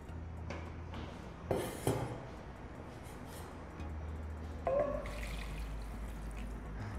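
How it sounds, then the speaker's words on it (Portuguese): Water is poured into a risotto pot on a stove while shrimp risotto is being prepared, giving a soft splashing pour with a couple of brief louder bursts over steady low kitchen noise. "Vou colocar aqui mais um pouquinho de água para complementar aqui a panela."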